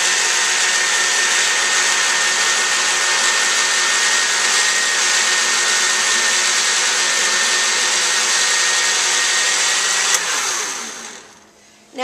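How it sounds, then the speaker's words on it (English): A kitchen blender whirs loudly and steadily as it churns cream into butter, then the motor winds down and stops near the end. "I'm going to turn my blender on to the blend"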